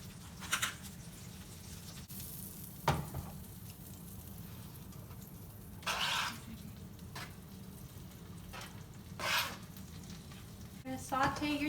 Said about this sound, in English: Saute your chili and you put the butter to give it a richer flavor